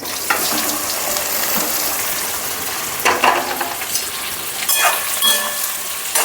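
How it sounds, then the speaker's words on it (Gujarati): Okra dropping into hot oil for a Gujarati bhindi dish, sizzling steadily at close range with a few louder bursts and stirring scrapes as the pieces go in; no voices. "તો તેલ સારી રીતે ગરમ થઈ ગયું છે તો હવે આપણે તેમાં ભીંડા નાખી દઈશું આ રીતે"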